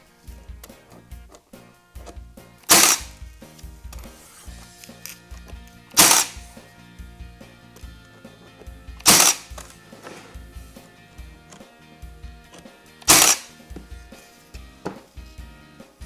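A Milwaukee 18-gauge cordless battery nailer fires four sharp, loud snaps a few seconds apart while nailing furniture pieces together. Softer handling knocks and clicks fill the gaps between shots.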